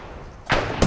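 Gunfire in a first-person shooter video game: two sharp, close shots, the first around the midpoint with a short ringing tail, the second right at the end.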